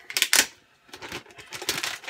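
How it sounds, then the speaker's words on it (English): A plastic bag crinkles and rustles while a Cisco RV325 VPN router is unboxed, in a loud burst at the start and then more crackling handling bursts. "a plastic bag."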